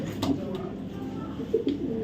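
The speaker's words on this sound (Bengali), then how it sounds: "বিআরপিএল 2024 সালের একটা নর কবুতর" A male racing pigeon from 2024 coos close by in two soft, throaty bursts.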